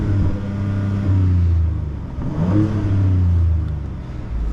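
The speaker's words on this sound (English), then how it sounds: "Let me start the car and let you hear the change in the driving modes." A Ford Ranger Raptor pickup in quiet drive mode idles with a low, muffled engine hum, then revs up and back down twice in smooth, subdued swells, close by with no talk.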